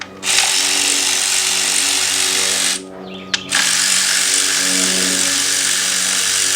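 A power tool, likely an electric driver, runs steadily and loudly while removing the two 8mm coil bolts on a Ford engine, with a brief stop partway before whirring again close up.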